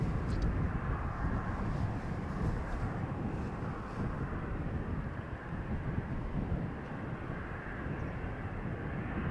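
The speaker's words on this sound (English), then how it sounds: "The first one is going to be an Embraer from KLM that is taxiing to the runway threshold" A KLM Embraer jet taxiing at Amsterdam Schiphol toward the runway makes a low, steady, distant engine rumble, mixed with wind buffeting the microphone.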